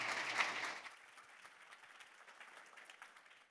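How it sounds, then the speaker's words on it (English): Luncheon audience applause at an International Women's Day event, fuller at first and then thinning into quieter scattered claps that fade into the room. "Let's give them all a warm round of applause."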